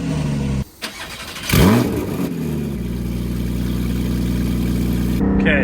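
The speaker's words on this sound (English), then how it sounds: "the real party piece of this car is the startup. So you got to hear this IP exhaust." A supercar fitted with an IPE exhaust fires up: a short cranking stutter, a loud sharp rev flare, then a steady raspy idle with another brief rev near the end, recorded close in the open.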